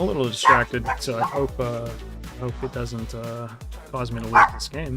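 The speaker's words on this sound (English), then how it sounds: "my dog's barking" A pet dog barks a few times in the background while someone talks continuously over it during a card game, the barks short and sharp but partly buried under his voice.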